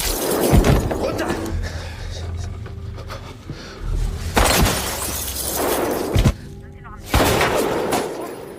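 Sharp gunshot cracks ring out several times amid a tense dramatic film scene in a forest, with voices and shattering, crashing noises in between.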